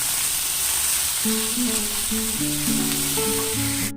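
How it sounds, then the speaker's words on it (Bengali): Taro stolons (kochur loti) fry with turmeric and salt in hot oil, making a loud, continuous close sizzle, while a faint melodic tone plays quietly underneath and nobody speaks. "এই দিয়ে আমি কচুরলতিটাকে আগে ভালো করে ভাজা ভাজা করে নেব।"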